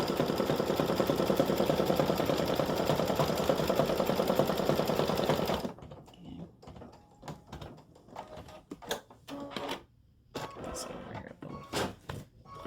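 An embroidery sewing machine top-stitches an appliqué flip-flop strap in a rapid, loud, steady mechanical chatter that stops partway through, followed by quieter scattered clicks and handling noises.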